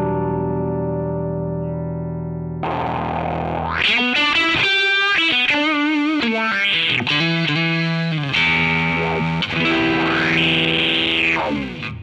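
Electric guitar played through a Morley optical wah pedal, a low sustained note giving way to distorted, sweeping phrases whose tone swells and sharpens.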